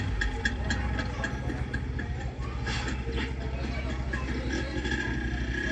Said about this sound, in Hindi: क्या मस्त बाइक चालू की है।